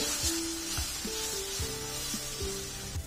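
Wheat flour sheera roasts in ghee as milk is poured in, giving a soft bubbling sizzle with several short tonal squeaks and spatula scrapes, up close, with no talking.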